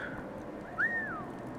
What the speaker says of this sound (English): Come to my whistle.